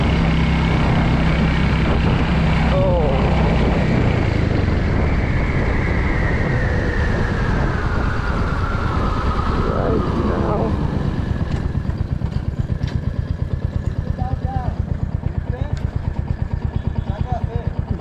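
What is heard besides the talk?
motorcycle riding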